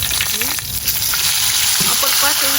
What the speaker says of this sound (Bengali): চিংড়ি মাছটা এক পাশ ভাজা হয়ে গেছে